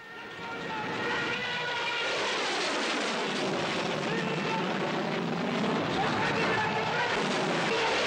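A mini-jet aircraft flies in the 1983 Bond film Octopussy, its engine roar swelling over the first second, then holding loud and steady, with a voice speaking over it.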